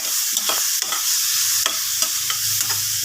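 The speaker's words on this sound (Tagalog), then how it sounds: "Ginisa natin ang ating kamatis." Tomatoes sautéing in a hot pan, a loud continuous sizzle with repeated scraping stirs of a utensil at an uneven rhythm, close up and with no talking.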